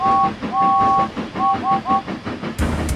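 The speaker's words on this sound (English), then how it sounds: "Into the yard streaked a black tender engine." A black steam tender engine pulls into a railway yard with a rhythmic chuffing and clatter, sounding two-tone whistle blasts several times, loud and close.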